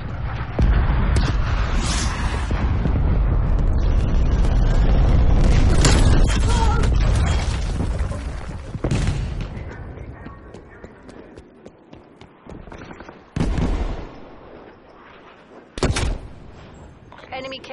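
Explosions from a cruise missile strike in the Call of Duty: Black Ops Cold War video game, loud booming blasts rolling continuously through the first nine seconds, then sharper isolated bursts later, mixed with game effects and voice callouts.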